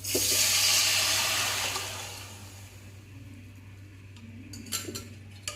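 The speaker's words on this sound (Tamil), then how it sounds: "ஆல்ரெடி கரைச்சி வச்சுருக்க ரசத்தை சேர்த்துக்கலாம்" Pepper rasam pours into a pan with a loud rushing splash that fades to a gentle simmer, followed by a few light metallic clinks from the pan.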